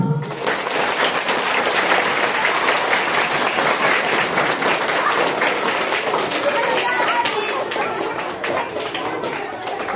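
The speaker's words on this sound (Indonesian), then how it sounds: "Tepuk tangan." Schoolchildren at an elementary school assembly clapping together loudly, a dense, fast burst of many small hands that fills the whole stretch and fades slightly toward the end, with some voices mixed in.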